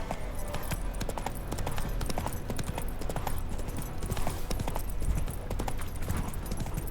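Roach the horse gallops in The Witcher 3, a fast, continuous clip-clop of hooves close up, steady rhythm over a dense outdoor game ambience.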